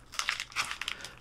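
An envelope of goodies for the Fighters of the Pacific game torn open and handled, a close, crisp crinkling of paper in quick bursts with no voices.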